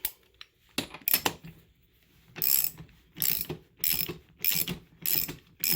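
Close ratchet clicking as a self-locking nut is run down on a generator wheel bolt, a few early clacks then regular bursts of fast ratcheting alternating with short pauses.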